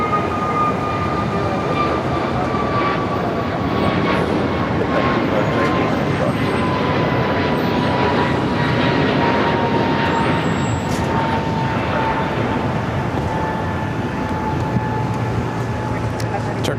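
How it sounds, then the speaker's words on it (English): Continuous broadband jet roar as a Turkish Airlines Boeing 787 Dreamliner taxis at LAX, steady and fairly loud throughout, with faint tonal engine whine layered over the rush. "Turkish Dreamliner continuing his taxi down to Bravo, heading to 25 right"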